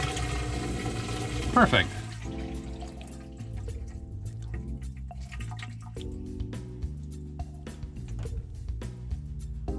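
Water draining through the plumbing of a Georgetown Class A motorhome during winterizing, a close trickling and dripping over a steady low hum, with a short spoken word early on.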